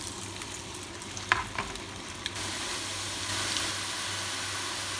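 Potatoes fry to light brown in hot oil for shahi aloo, giving a steady close sizzle with a few brief scraping stir sounds. No one speaks.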